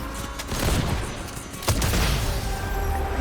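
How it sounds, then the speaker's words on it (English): Assault rifle fire in the video game Fortnite crackles as dense, sustained bursts of shots, loud and close, with a sharper heavy report partway through and no talking. "One of my favourite assault rifles in the whole game"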